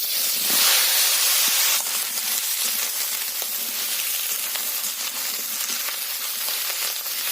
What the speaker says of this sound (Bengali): তেল গরম হয়ে গেছে এতে কেটে রাখা পটলগুলো ভাজার জন্য দিয়ে দেবে